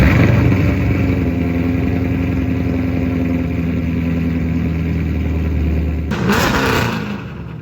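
A performance engine in a mini TRX-style truck runs at a loud, rumbling idle close by, its deep steady burble holding for several seconds before a sharp burst of noise near the end.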